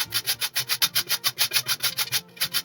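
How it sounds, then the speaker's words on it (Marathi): Carrots rubbed against a coarse-holed grater for a carrot kheer, giving a steady run of about a dozen quick, even rasping strokes, close and alone. "त्यासाठी अशा जाड छिद्र्यांचीच किसणी वापरा, म्हणजे गाजर छान जाड किसले जातात."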